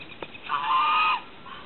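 A goose gives one loud, nasal honk, held for about half a second at close range, with no talk over it.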